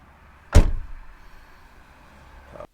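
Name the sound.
2021 Ford Bronco door opening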